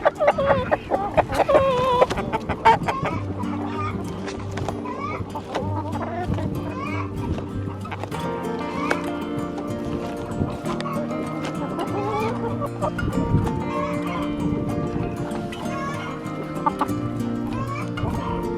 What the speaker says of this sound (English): Let's take it to the chickens.